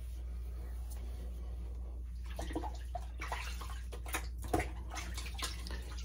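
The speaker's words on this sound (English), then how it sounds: "Rinse that off my hands there." Hands rinsed under running water after a wet shave: a quiet, low splashing flow with soft irregular swishes as the hands move through the stream, and no talking.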